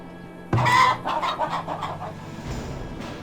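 Chickens in the farming strategy game Farthest Frontier give a burst of rapid, close clucking that rises suddenly and then tapers into a steady run of softer clucks over a low ambient hum.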